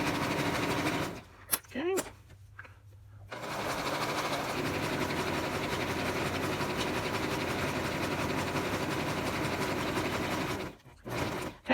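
A sewing machine runs at a slow, steady pace while stitching over the seams of a fleece hat. Its motor drones close and continuous, with brief pauses where a voice speaks a word.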